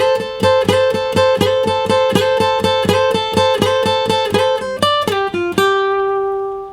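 An acoustic guitar plays the second phrase of an unplugged solo: a quick run of evenly picked single notes, then a short descending figure ending on one held note that rings out and fades.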